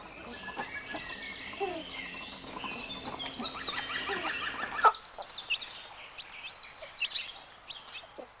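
Chicks peeping in a group near their mother, many faint high cheeps and chirps overlapping continuously with a low murmur of clucking beneath, close and steady.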